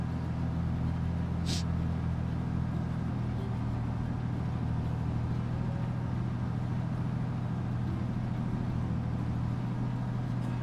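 Steady idling rumble of an N14 truck engine in Farming Simulator 25, with a W900 truck mentioned, droning low and continuous throughout with a brief high hiss partway in.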